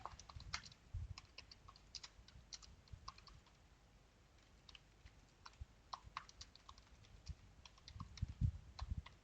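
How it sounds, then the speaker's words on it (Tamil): Keys on a computer keyboard are tapped in short, irregular bursts, with pauses between groups of strokes. The clicks are close but quiet, and no one speaks. "இந்த மாதிரி நான் டைப் பண்ணிக்கிட்டேன்."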